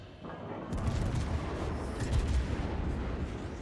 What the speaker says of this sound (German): Vier Schiffe schießen auf mich